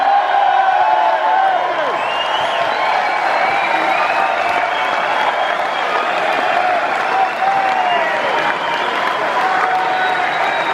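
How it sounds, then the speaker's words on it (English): Crowd applause and cheering at a Quadrophenia Experience Q&A event welcoming Phil Davis, a sustained roar of clapping with scattered whoops and shouted voices mixed in. "please give a huge round of applause to Phil Davis"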